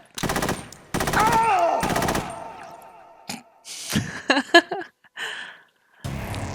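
Bursts of rapid gunfire from the video game Metal Gear Solid 2, several loud automatic volleys separated by short pauses, followed by scattered sharper shots and clanks.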